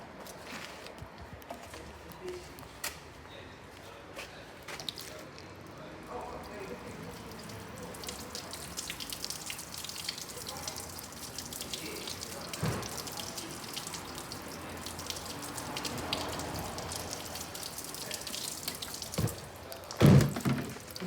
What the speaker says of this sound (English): So you can see there, all the water's actually coming through.